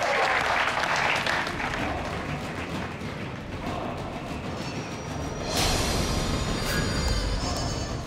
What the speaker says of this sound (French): s'il vous plaît, un tonnerre d'applaudissements